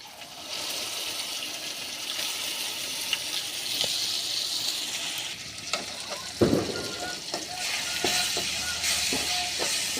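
Garlic chutney fries in oil in a village-style kitchen, a steady close sizzle with occasional clattering scrapes from stirring, the loudest stroke coming past the middle.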